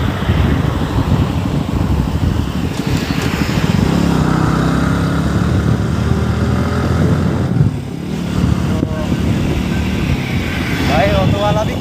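Dense, steady road traffic with engines droning and passing close by, auto-rickshaws and a motorbike rumble among them, continuous and loud throughout.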